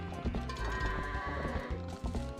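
Goats bleat loudly and close in The Legend of Zelda: Twilight Princess, several overlapping wavering cries filling the whole stretch with little pause.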